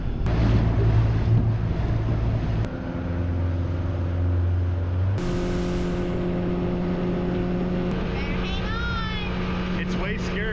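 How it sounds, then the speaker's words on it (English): A motorboat pushes out through an inlet, its engine droning steadily under heavy wind buffeting on the microphone and rushing water, with the engine note shifting as it moves along. "My mate expertly piloting the vessel out of Salt Run."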